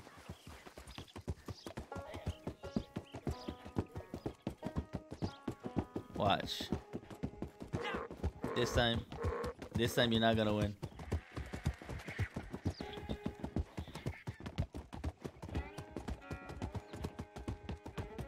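A donkey in Red Dead Redemption 2 Online trots with steady, rapid clip-clop hoofbeats throughout, with occasional whinny-like calls and people talking over it.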